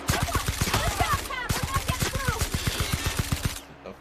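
Rapid automatic gunfire rattles in a dense, rhythmic burst of evenly spaced shots during a combat encounter in the video game The Outer Worlds, loud and continuous before cutting off abruptly.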